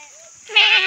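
Sheep and goats on a farm let out a single loud, close bleat in the second half, after a brief quieter call at the start.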